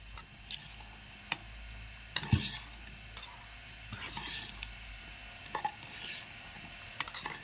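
Chopped cucumber and green chillies stirred in a pan with a utensil, giving quiet scattered clinks and scrapes at an irregular pace against a soft background hiss.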